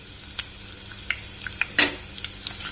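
Curry leaves, salt and coarsely crushed garlic frying in hot oil, a steady close sizzle broken by scattered sharp pops and crackles, one burst louder than the rest, with no talk.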